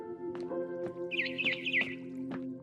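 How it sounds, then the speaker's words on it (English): A barn swallow chirps in a short rising-and-falling warble among soft clicks and taps over a low steady hum, from the video game What Remains of Edith Finch. "It was a barn swallow going back to her nest."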